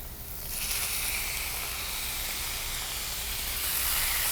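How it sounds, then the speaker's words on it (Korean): Beef hits a hot pan over high heat and erupts into a loud, steady sizzle that swells after a quiet start and holds as a close, continuous hiss. "고기를 볶으실 때는 가능하면 센 불에서 쨍 하는 소리와 함께 볶아 주셔야 되고요"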